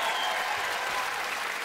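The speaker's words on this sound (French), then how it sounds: "On peut les applaudir." Warm audience applause at a family talent show final, a dense, loud wash of clapping from a full hall, sustained and even throughout.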